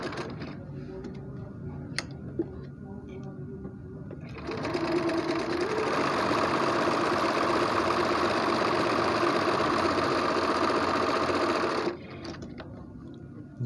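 A Riccar Holiday 1240 home sewing machine stitches a picot edge on fabric. A fast, steady mechanical whirr and tick run for several seconds, with quieter handling before and after.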